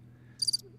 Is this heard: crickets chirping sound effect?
yes